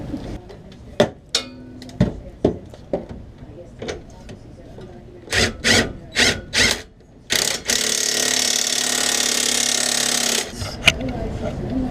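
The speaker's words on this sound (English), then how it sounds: "tighten this control arm up, which is a 19 millimeter" Ratchet tightening a 19 mm control arm bolt on a BMW E30 during strut insert installation, a run of quick clicking bursts followed by a longer sustained metallic whir, close and fairly loud.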